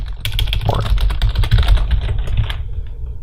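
Fast, steady typing on a computer keyboard, with dense clicky keystrokes for about two and a half seconds before it tapers off. The typing is close and alone, with no talking.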